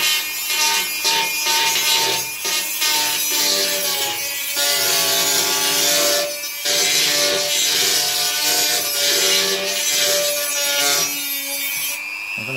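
A file scrapes steadily along the edge of a piece of toughened tempered glass, making loud, close, continuous rasping strokes with a gritty, ringing edge and only brief pauses.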